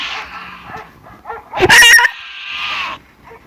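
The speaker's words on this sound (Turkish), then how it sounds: "Dümdüz köpek var burada" A few sharp dog barks burst out in the middle, set against a steady synthetic Roblox game soundscape with tonal hum before and after.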